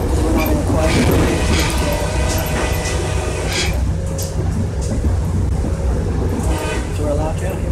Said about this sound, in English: This is what I'm looking at from inside the train, and here's the horn.